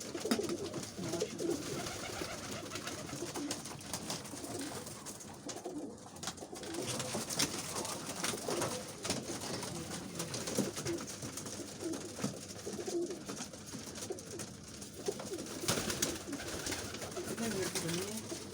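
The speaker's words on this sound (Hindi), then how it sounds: "बहुत अच्छे कबूतर" Pigeons coo continuously nearby amid a busy, noisy background, with people talking faintly underneath.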